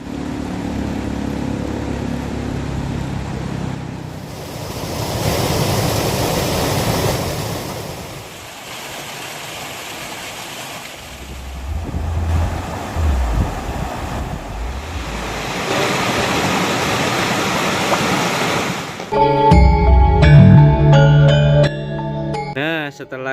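A small river runs through Indonesian forest scrub, giving a steady rushing wash of water that swells and eases. Near the end, music cuts in over it.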